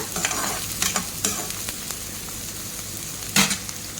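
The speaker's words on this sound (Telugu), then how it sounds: "ఇప్పుడు ఆనియన్ వేసేస్తున్నాము. వీటిని బాగా ఫ్రై చేసుకోవాలి, బాగా ఎర్రగా ఫ్రై అవ్వాలన్నమాట." Chopped onions fry in hot oil in a pan, a steady sizzle broken by several sharp scraping stirs, with one loud clatter near the end; close and fairly loud, with no talking.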